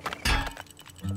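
An oil drill striking rock in the game Turmoil, a short sharp cracking clink burst followed by a low mechanical hum, all within about a second.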